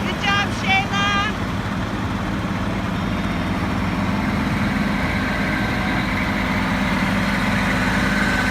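A tractor rolls along in a parade, its low engine rumbling steadily and fairly loud up close, with brief bird-like chirps and crowd murmur early on.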